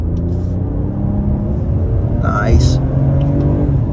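A 2022 Toyota Avalon XLE accelerates in second gear, a low steady engine rumble from inside the cabin with a short voice remark over it.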